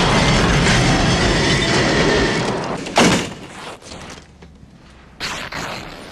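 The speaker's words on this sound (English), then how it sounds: "he takes control of the train for no reason" A train runs in the film Highlander 2, a loud rushing rumble with rail clatter that drops away, then a sharp burst and a brief return of noise near the end, with no talk.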